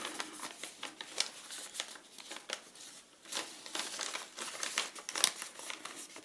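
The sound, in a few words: creasing reflective paper to fold a gift box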